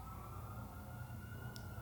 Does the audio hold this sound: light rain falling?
no